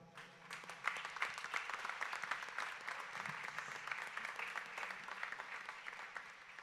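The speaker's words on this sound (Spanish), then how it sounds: "le ofrecemos nuestro aplauso" A church congregation at a Catholic Eucharist in Manizales applauds the parish priest, a moderate, even round of many people clapping in a reverberant space, steady for several seconds.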